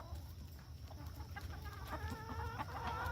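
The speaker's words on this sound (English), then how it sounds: "Naughty roosters." Backyard chickens and roosters cluck and murmur close by, a burst of layered, rising calls building over soft barnyard background.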